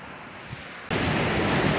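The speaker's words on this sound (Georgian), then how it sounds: "ხადას დიდი ჩანჩქერი." Khada's big waterfall rushes with a loud, steady broadband roar that surges in abruptly after a quieter first second and then holds constant, with no voices.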